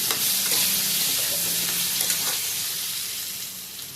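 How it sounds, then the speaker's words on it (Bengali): Potatoes fry in hot oil with turmeric and salt, a steady close sizzle with occasional stirring scrapes, loud and continuous, gradually easing slightly. "এক ফোঁটা হলুদ, এক ফোঁটা লবণ এই দিয়ে ভাজতে শুরু করি।"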